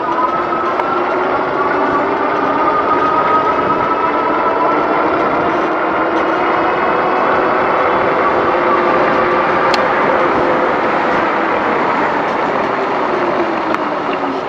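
Freedare Eden fat tire ebike hub motor pulling slowly on throttle alone, a steady whine that rises gradually in pitch as speed builds, with tire and wind rush underneath throughout.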